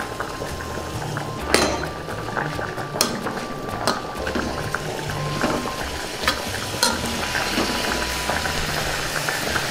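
Coriander, mint leaves and pounded green chillies fry in a pan for mint rice, a continuous close sizzle broken by sharp scrapes and clinks of a spoon stirring against the metal, with no talk.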